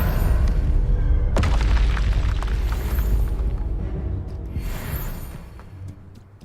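A spell cast in the Hogwarts Legacy video game lands with a deep booming burst, then a sharp crack a moment later, followed by a rumbling, fading tail and lighter magical shimmers near the end.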